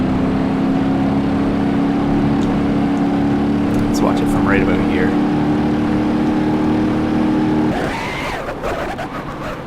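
A car engine idles steadily in BeamNG.drive, a constant low hum beneath a voice, with the drone dropping away near the end.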